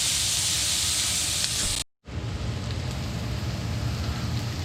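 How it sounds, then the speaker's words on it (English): Mirepoix frying in a pot for a Yankee pot roast, a steady bright sizzle that cuts out briefly partway through and then resumes just as loud. "We're going to fry this, get a little color on it"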